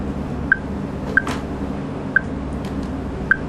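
Four short, high electronic pings from an acoustic shark tag, heard underwater on a hydrophone, at irregular intervals, faint but distinct above a steady low rumble of background noise.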